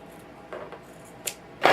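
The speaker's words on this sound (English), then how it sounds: "So now, working with one piece of fabric now, which is the back, you're just going to cut that out." Scissors snip through fabric while cutting out the back piece of a circle swing top: a few short, crisp cuts, the last one loudest, against a quiet room.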